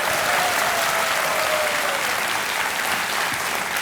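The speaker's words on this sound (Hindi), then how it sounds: "एक बार फिर तालियों के साथ इनका स्वागत।" A studio audience at the KBC (Kaun Banega Crorepati) game show claps in sustained, loud, even applause that fills the whole stretch with no pause.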